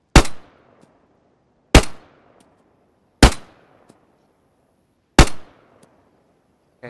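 Four sharp gunshots from a player's gun in the video game DayZ, evenly spaced about a second and a half apart, each loud and close with a quick ringing decay, and no other sound between them.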